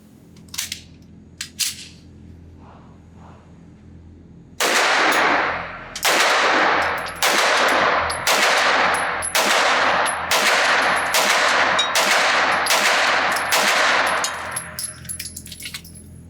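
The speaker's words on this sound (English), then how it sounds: "the gun shot hollow points just fine" A compensated Staccato XC 9mm 2011 pistol fires hollow point rounds, about ten loud, sharp shots in a steady rhythm after some quieter handling noises, each report ringing briefly with no talking.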